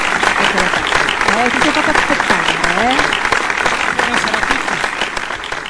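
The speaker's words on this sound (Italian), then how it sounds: "Un applauso anche per tutti i makeup artist di questa speciale edizione The Look of the Year" An audience at The Look of the Year International beauty event applauds for the makeup artists, with sustained, dense clapping and a person speaking over it.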